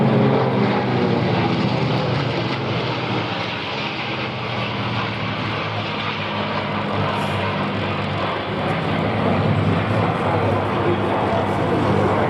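A P-51 Mustang flies an aerobatic display at the Duxford Flying Legends air show in 2015, its piston engine making a loud, continuous propeller roar that stays steady and close for the whole stretch.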